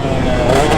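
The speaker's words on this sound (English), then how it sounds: "there's just something about ringing out a 2-stroke that's so much fun" A KTM 150 SX two-stroke dirt bike engine holds a steady, loud high-pitched drone, revving near the listener without pause.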